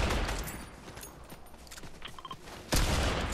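Gunfire in the Fortnite video game, Chapter 5 Season 4 Reload mode: a dense, continuous clatter of rapid shots under a busy game soundscape, ending in a louder burst.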